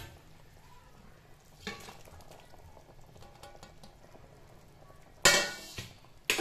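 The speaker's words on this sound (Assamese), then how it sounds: "ঔষধি আঞ্জাৰ জোলকণ উতলিবলৈ ধৰিলে আৰু ইয়াতে হাফ ডান কৰি ভাজি থোৱা হিঙি মাছখিনি দি দিলো" Half-fried hingi fish goes into a boiling herbal curry with curry leaves, nirgundi and Paederia foetida; a quiet, low bubbling simmer runs until a sudden loud sizzling burst near the end, then brief further splashes.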